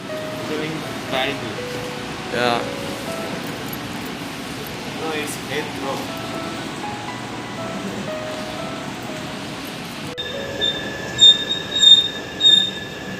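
A train pulls into the Heathrow Airport station with a sustained rumble and high metallic wheel squeal, then rising tones and chimes near the end, with voices nearby.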